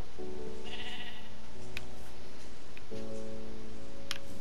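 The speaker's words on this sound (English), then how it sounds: "No, don't kill the sheep." Sheep in a video game bleat in three separate calls, each one loud, close and on its own, with short pauses between them.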